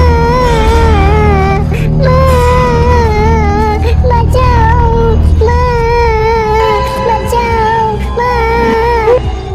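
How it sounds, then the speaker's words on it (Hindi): A child's crying sound effect in a horror story: loud, sustained wailing sobs with wavering pitch, rising and breaking into fresh cries over nearly ten seconds, close and unaccompanied by talk. "ये किसी बच्चे का रोने का आवाज थी।"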